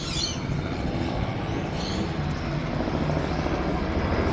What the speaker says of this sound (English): That local helicopter that...